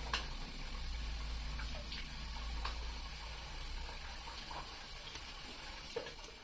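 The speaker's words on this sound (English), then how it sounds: "Let's rinse off." Water runs from a tap as someone rinses off after a shave, a steady splashing flow with small intermittent splashes, heard close and continuous.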